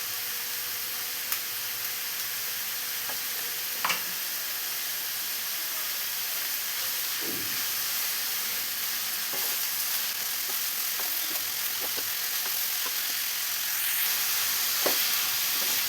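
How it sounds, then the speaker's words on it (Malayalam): Sliced onions with salt sautéing in oil in a pan, a steady close sizzle and hiss with a few soft stirring scrapes, no talking. "ഇതിലോട്ട് ഈ സമയം അല്പം ഉപ്പും കൂടെ ചേർത്തിട്ട് നമുക്ക് സവാള നന്നായി തന്നെ ഒന്ന് വഴറ്റിയെടുക്കണം."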